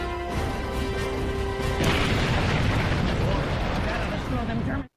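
A large gun blows up in a war-film scene of a merchant ship turned warship, a loud sustained roaring blast with crackling debris that rumbles on under a continuous low drone before ending abruptly.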